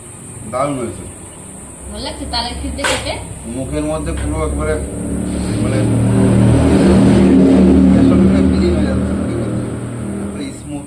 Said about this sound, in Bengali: এই মাত্র দেখলেন বাইক গেল এত জোরে স্পিডে